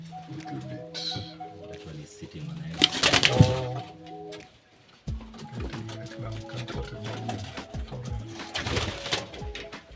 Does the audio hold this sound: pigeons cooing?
yes